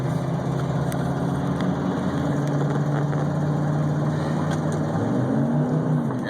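A 1994 Ford F-150 4x4 with a 5.8L V8 runs steadily at a low idle-like drone, its engine tone holding level and then rising slightly near the end as the automatic transmission shifts, heard close up without any talk.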